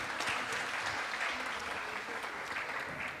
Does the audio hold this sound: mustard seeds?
no